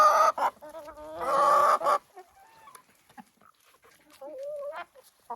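Several chickens cluck and squawk close by in short bursts, with quieter murmuring clucks between louder calls.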